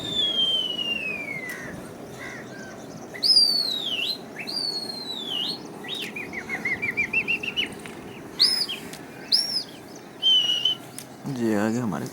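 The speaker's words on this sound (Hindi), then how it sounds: "ये आ गए हमारे कबूतर वापसी।" Pet pigeons flying back home, with bursts of wing flapping and fluttering among bright whistles and chirps, set against steady outdoor background noise and occasional sharp rustles.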